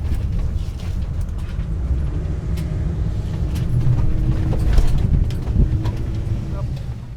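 An e-bike carrying a bike rack rolls down a road, giving a continuous low rumble of road and wind noise that swells slightly midway, with no clear speech.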